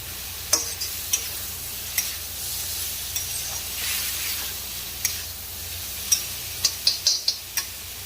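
Cauliflower and potato sabzi stir-fried over high heat, a continuous sizzle broken by scattered sharp clicks and scrapes of a spatula against the pan, busier toward the end, with no voices.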